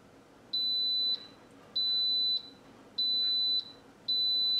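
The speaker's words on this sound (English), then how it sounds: "All right, the Instant Pot just beeped, finishes 20 minutes of pressure cooking." An Instant Pot pressure cooker beeps as it finishes 20 minutes of pressure cooking, sounding four evenly spaced, sustained electronic tones about half a second each, clear and alone over faint room noise.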